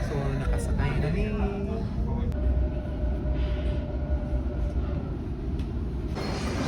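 Riding a Sydney train: steady loud rumble of a moving carriage with low rolling noise and a faint whine, people talking over it.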